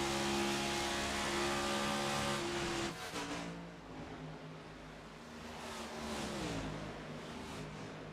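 Stock race cars battle around the Las Vegas track in a racing game, engines droning in layered tones that shift pitch as the cars pass and dip, then swell again, with no speech.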